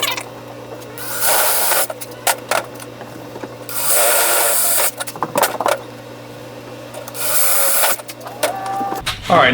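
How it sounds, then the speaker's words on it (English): A power drill with a 3/16 bit whines loudly in three bursts of drilling pilot holes, separated by quieter clicks, handling noises and a low background hum. "We're going to go ahead and drill it with a 3/16 drill bit."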